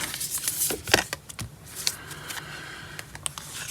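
Stiff matte tarot cards are shuffled by hand close up, a run of quick riffling snaps and slides followed by softer, scattered flicks.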